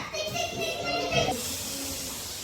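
Children's voices give way to a steady breathy hiss, a voice imitating falling rain, held for over a second, in a nature-sounds lesson.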